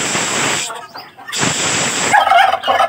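Turkey gobbling at a zoo, loud bursts of rapid warbling calls close by, with a person talking between and over them.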